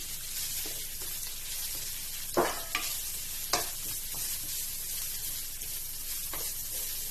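Garlic sautés in a pan for ginataang tulingan, a continuous close hiss and sizzle broken by a few light spatula taps and scrapes.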